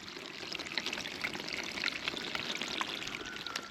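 Water tumbles down a small stream running between ponds, a steady, close splashing and gurgling rush that carries on unbroken with no voices.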